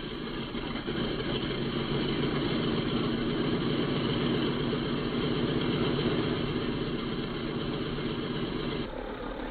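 A B-17 bomber's number 2 radial engine runs with a steady, rumbling idle, loud and continuous throughout with a slightly rough, pulsing texture.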